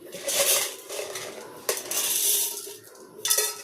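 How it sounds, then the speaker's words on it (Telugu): Chana dal is roasted in a pan, with dry clattering and scraping as a metal spoon stirs the lentils in bursts, close and fairly loud. "దీన్ని మంచిగా వేయించుకుందాం మనం ఇప్పుడు."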